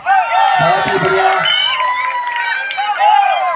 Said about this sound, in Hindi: दर्शकों से अनुरोध है कि खिलाड़ियों का तालियों से स्वागत करें